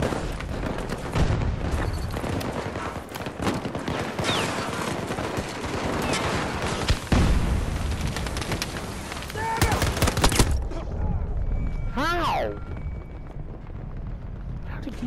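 Gunfire from a gun in Battlefield 2042: dense, rapid bursts of shots over a roaring battle soundscape, with rising whistling tones near the end.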